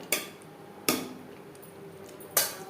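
Mutton cooking in a pan for a Bengali potato mutton curry is stirred over high flame, giving three sharp metallic spoon knocks against the pan, spaced unevenly over a faint sizzle, with no talking.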